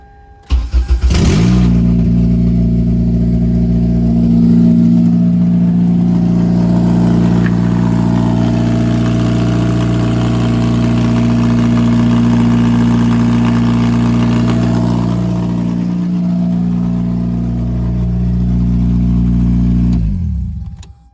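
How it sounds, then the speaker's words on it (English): A Toyota MR2 Spyder with a swapped K24 engine cranks and catches on its first start, then settles into a steady, loud idle with a low hum that runs on until it cuts off. "So this is the attempt to start the car."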